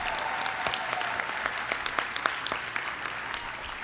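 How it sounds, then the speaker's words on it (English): Applause from a conference audience is steady and sustained, with dense clapping from a large crowd at even loudness throughout. "Let's have a warm applause for President Maureen Denon."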